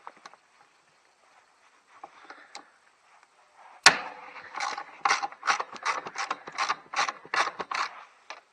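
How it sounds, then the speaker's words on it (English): A ratchet loosens T50 bolts on a second-row seat of a Honda Odyssey, its rapid clicking coming in quick close bursts after a sharp initial crack, following a few quiet taps. "So first step we're going to do is take out these two T50 bolts."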